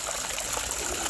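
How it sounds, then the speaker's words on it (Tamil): Water gushes steadily, filling up for animal feeding time on a hot sunny day, a continuous close rushing stream without pause. "தண்ணியை ஃபஸ்ட்டு பிடிச்சிருவோமா."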